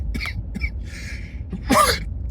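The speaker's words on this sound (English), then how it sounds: "I'm still coughing." Several short coughs after a lower-body workout, with quiet gaps between them, then a harsher, louder burst near the end, close to the listener.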